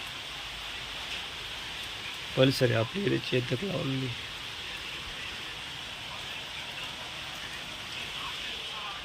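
Heavy rain falling outdoors makes a steady, even hiss throughout, and someone speaks briefly over it near the start.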